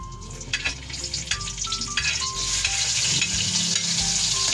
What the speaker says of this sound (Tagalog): ilagay na muna natin itong bawang